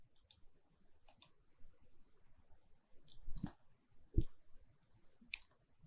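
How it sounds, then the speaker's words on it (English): A computer mouse is clicked on the OK button in RFEM 6 structural analysis software: a few sharp, quiet clicks spaced apart, with faint handling thumps in a near-silent room. "Then I click on OK."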